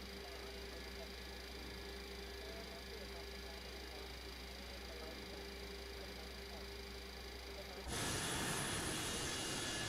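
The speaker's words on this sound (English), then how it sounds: "We have a good engine start." The jet engines of a Boeing 727-200 in the MSFS 2024 flight simulator drone steadily at idle after start, a constant hum with a tonal whine that suddenly swells louder and brighter near the end.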